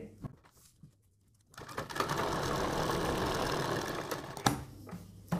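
A sewing machine runs a basting stitch through fabric for a boat-neck blouse, a steady whirring run of about three seconds between quieter handling pauses.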